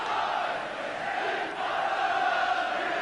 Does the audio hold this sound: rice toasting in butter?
no